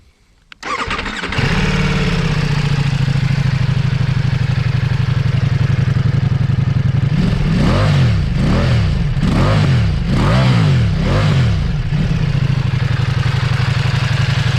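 A Ducati Multistrada V4 motorcycle engine cranks and catches, settles into a loud steady idle, then revs up sharply several times in quick succession before dropping back to idle.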